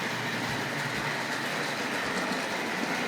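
A Tri-ang or Hornby Dublo model train rolling through a station, with steady close rail rumble and faint rhythmic clicking of small wheels over track joints, no voices.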